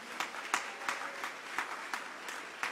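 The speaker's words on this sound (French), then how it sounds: "acclamez très fort le Seigneur pour lui" Church congregation clapping in rhythm, with regular bursts of applause about every third of a second and a steady roomy crowd wash beneath, no clear speech.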